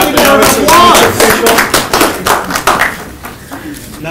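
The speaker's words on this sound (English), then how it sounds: "I think we deserve applause." Applause from an audience at a VF company meeting: a loud burst of many overlapping claps that gradually thins and fades over about four seconds, with voices calling out underneath.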